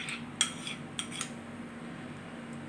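A spoon clinks and scrapes around a bowl while custard powder is mixed into a smooth paste for fruit custard, a few light metallic taps standing out over a quiet background.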